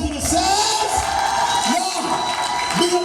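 Audience at a stand-up comedy show in Coral Springs, Florida cheering, whooping and clapping, a lively crowd roar that holds steady throughout, with a voice speaking over it.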